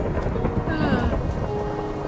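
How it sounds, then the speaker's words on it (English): A low, rolling rumble of thunder in Minecraft lingers in the background, with a faint voice briefly audible over it. "I heard thunder."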